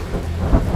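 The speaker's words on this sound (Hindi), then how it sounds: "बहुत बारिश हो रही है" Heavy rain pouring steadily with a low rumble of thunder beneath it, constant and close, no voices.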